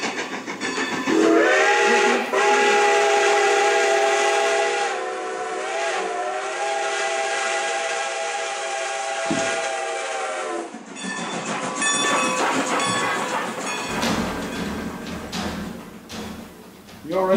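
A train rolls past while a steam whistle blows a long, loud sustained tone for about ten seconds, followed by rumbling, clattering wagons; speech appears briefly over the noise.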